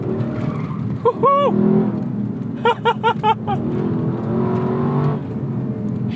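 A 2018 Lexus LC500 with a Torsen limited-slip differential is throttle-steered, its engine roaring steadily while its tires squeal in two short, pitched bursts; a person whoops over the noise.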